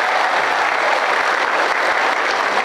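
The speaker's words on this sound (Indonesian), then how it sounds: "Kasih tepuk tangan yang meriah." A large hall of high school students, about a thousand of them, applauds loudly and steadily in a dense, continuous wash of clapping with no pauses.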